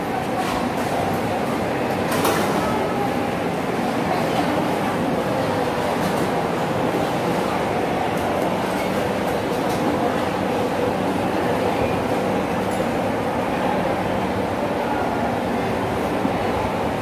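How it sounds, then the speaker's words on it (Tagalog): A train rumbles past at Punggol, Singapore, a steady broadband roar holding for the whole stretch with a faint clatter near the start and no voices. "Pakadto na kami sa train."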